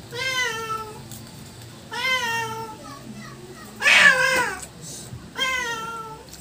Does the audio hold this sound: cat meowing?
yes